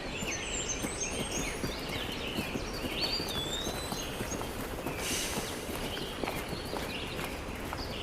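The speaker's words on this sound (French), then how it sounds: "Moi, je vais m'en aller avec les chevaux." Horse hooves clip-clop at a slow walk on the ground, fairly faint, with birds chirping in the background.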